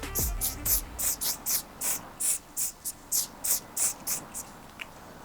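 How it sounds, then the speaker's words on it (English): One Size On Till the Dawn setting spray misted from a pump bottle, about a dozen short, evenly spaced hissing puffs close up, preceded by a low thump. "I'm going to be using this One Size ka setting spray"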